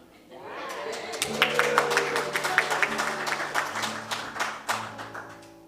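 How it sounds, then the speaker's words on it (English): Applause from a church congregation at a Sunday gathering as a woman walks up to speak about a plant sale, moderate and steady for several seconds with some voices mixed in. "I never thought I'd get an applause for walking."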